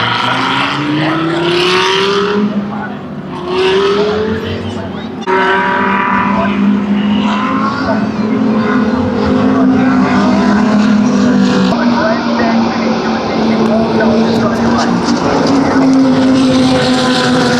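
Race cars, among them the KFC R8 and a Volante Rosso Aston, roar around a circuit with rising and falling engine tones as they pass, loud and continuous, while a commentator talks over the action.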